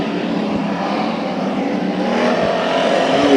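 Hobby stock race cars run a pace lap at Santa Maria Speedway with a dense, continuous engine roar that swells slightly toward the end. No voices are heard over it.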